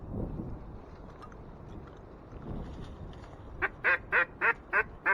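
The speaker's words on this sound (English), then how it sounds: "Wood duck." A duck gives a run of six rapid, loud calls near the end, preceded by quieter wind and water noise on a windy morning duck hunt in Michigan; no speech.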